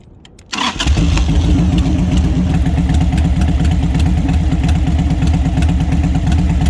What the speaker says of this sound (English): So I'm gonna fire the bike up.